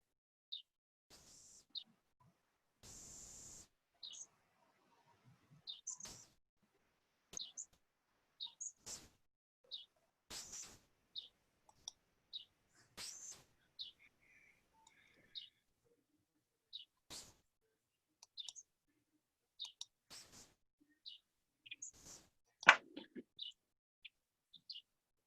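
Birds chirp faintly in the background of a township committee meeting: sparse short tweets and calls scattered irregularly across a quiet stretch, with a few soft clicks and thumps between them.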